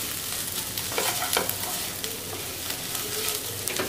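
Roasted onion mixture for a spicy thecha chutney sautéing in a pan, a dense continuous sizzle with soft stirring scrapes over about four seconds, close up and with no voices.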